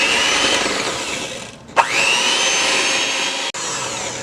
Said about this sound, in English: I'm going to take my blender and start the blend.